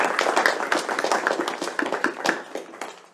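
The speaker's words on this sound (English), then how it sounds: "give them one more round of applause." Audience applause after a local engineer panel at a STEM event, a room of hands clapping in quick irregular bursts, fairly close and clear, tapering off toward the end.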